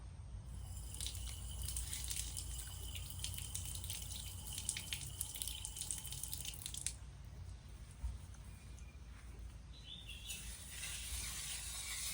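Phopi green chillies are rinsed under a running kitchen tap in a Kokan home kitchen, giving a steady splashing wash for several seconds before easing to a softer trickle, with no talking.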